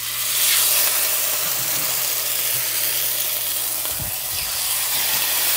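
Steelhead salmon fillets sizzle skin side down in a cast iron pan, a steady dense crackling hiss throughout with a faint low hum and occasional soft clinks underneath, no voices.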